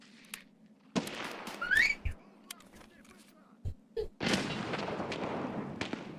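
Gunfire from the left in a mobile shooter video game: several sharp isolated shots spaced apart, a whistling streak, then a longer burst of noisy firing, all moderately loud with no talk over it.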